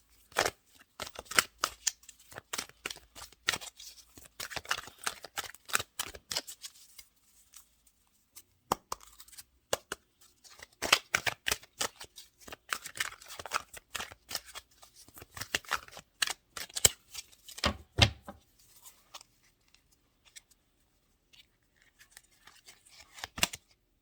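Tarot cards shuffled and drawn by hand for a reading, with bursts of crisp riffling and snapping flicks separated by short quiet pauses, close and fairly loud, with no talking.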